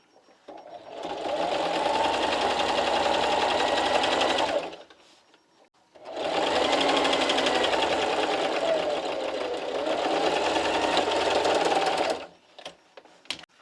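A sewing machine stitches a seam joining carpet tiles for an area rug, its fast, even whir running close and loud in two long stretches with a short pause between them.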